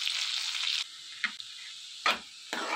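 Onions, green chillies and curry leaves frying in a pan: a steady sizzle at first, then a few separate scraping stirs, close and fairly quiet.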